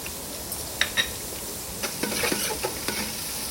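Oil, onion and whole spices sizzling in a pot while a spoon stirs and scrapes, a steady quiet fry with a few light clinks and scraping strokes scattered throughout.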